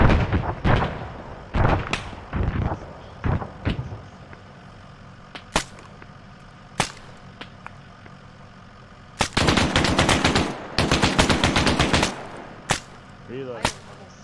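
Gunfire in the ARMA 3 military shooter, with sharp single shots scattered early, then two dense bursts of automatic fire near the middle, loud and close, with a few more isolated cracks afterward.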